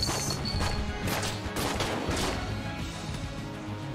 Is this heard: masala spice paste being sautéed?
no